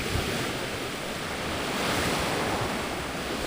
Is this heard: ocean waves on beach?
yes